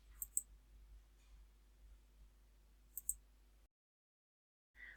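A computer mouse clicks as someone works in estimating software, two quick double clicks sharp and close against a quiet background hum, then a short silence.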